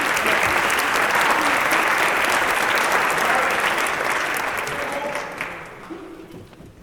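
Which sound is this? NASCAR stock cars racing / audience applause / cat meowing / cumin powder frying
audience applause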